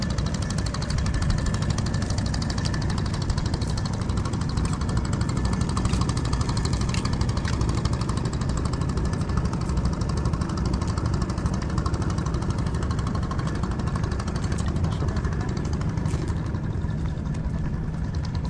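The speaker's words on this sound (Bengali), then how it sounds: "নৌকা চলছে" A motor boat engine runs steadily near Enayetpur embankment in Sirajganj, a loud continuous rapid chugging thrum that fills the whole stretch with no voices.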